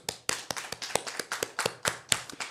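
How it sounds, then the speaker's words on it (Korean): A short burst of congregation clapping at an Easter church service, brisk and irregular, many hands together, close and fairly loud with no voices. "우리 예수 그리스도께 영광의 박수 한번 올려드리겠습니다."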